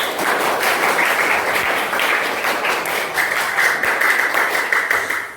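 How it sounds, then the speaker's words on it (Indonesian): A group of people clap together during a training session, producing a dense, steady wash of applause that runs close and unbroken for the whole stretch. "tepuk tangan untuk kita semua"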